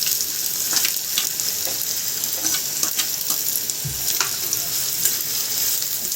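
Chopped onion frying in a pan until golden brown, a steady close sizzle with occasional stirring scrapes throughout, no voices.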